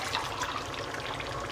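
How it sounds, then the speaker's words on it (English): Water tipped from a tomato tin into a simmering curry base masala, a continuous close trickling pour that stays even throughout, with no voices. "And then I'm going to use the tin and I'm going to take some water"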